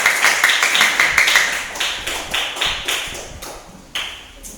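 A class claps in unison during an artificial intelligence lesson, sharp synchronized hand claps loud and close in a steady rhythmic pattern of about a dozen beats with a brief pause near the end.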